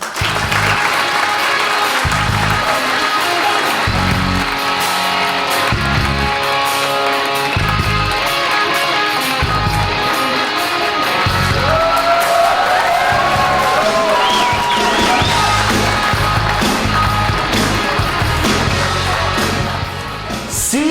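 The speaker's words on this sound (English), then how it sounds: "please give a round of applause and welcome Marc Gordon." An audience applauds and cheers loudly as a guest speaker is welcomed onstage, continuous dense clapping with whoops and yells, under a steady thumping music beat throughout.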